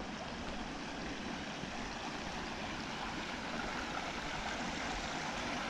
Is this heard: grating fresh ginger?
no